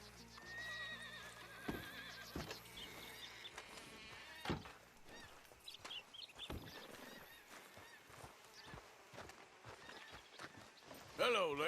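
A horse being hitched in Red Dead Redemption 2, with a whinny, snorts and scattered hoof clops close by, plus short bursts of other game sounds.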